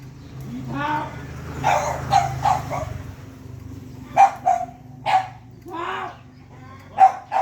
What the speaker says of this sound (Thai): หมากะเห่าพ่อหมาบัด